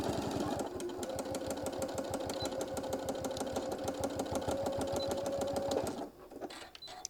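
A sewing machine stitching back over about an inch of an earlier seam on a fabric travel case for a mini iron, running in a fast, even rhythm of needle strokes for several seconds before stopping, followed by quiet handling clicks.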